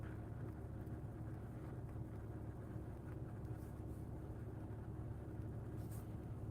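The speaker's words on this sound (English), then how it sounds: "I'm in my car right now" Steady low engine rumble heard from inside a car, a continuous broadband drone at moderate level with no talking.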